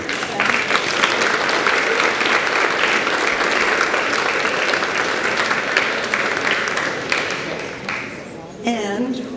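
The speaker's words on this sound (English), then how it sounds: "A round of applause" A theatre audience at a community dessert theatre show claps steadily and loudly for several seconds, the applause thinning toward the end as a voice begins speaking.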